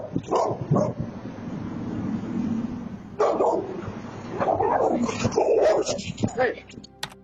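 Pit bull attacking a man outside a house: agitated barking and yipping bursts, close and loud, mixed with shouting voices throughout and a sharp final bang-like transient.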